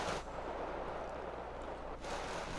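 Rifle fire from Canadian infantry engaging enemy Stormer vehicles in Wargame Red Dragon, heard as muffled, distant rumbling bursts of battle noise that swell and fade.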